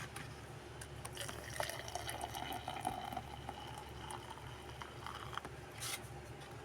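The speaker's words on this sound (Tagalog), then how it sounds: "Lagyan na natin ng tubig ng mainit guys." Hot water poured into a thermos; a faint, steady trickling fill sound runs for several seconds against quiet background clatter, with no talking.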